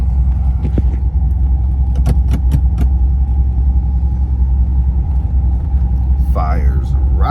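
A 1984 Chevrolet C4 Corvette engine idles close by in a steady, even low rumble, with sharp clicks and a jangle of keys early on and a brief voice near the end.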